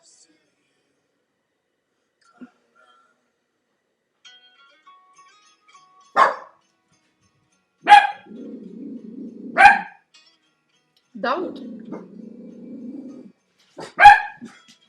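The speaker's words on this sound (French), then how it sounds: "les chiens jappent parce que j'ai quelqu'un ici" Several dogs bark indoors in short, sharp bursts spaced a second or two apart, with a person speaking quietly between the barks.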